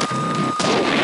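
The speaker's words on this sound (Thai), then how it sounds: "โดนระเบิด" A loud burst in the Max Payne video game: an explosion or gunfire blast with broadband rumble, a brief dip, then a second sustained boom filling the rest of the second, with no talk over it.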